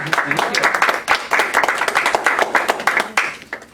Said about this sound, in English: I think applaud is appropriate.